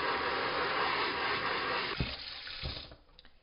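Tap water runs steadily over a screen-printing screen being washed off, a continuous close splashing hiss with a couple of heavier splashes near the end before it quiets.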